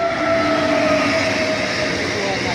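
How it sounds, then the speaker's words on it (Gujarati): A loud electric locomotive hauling a container goods train rumbles past close by, a steady roar with a faint tonal whine, continuing throughout the short clip. "electric locomotive"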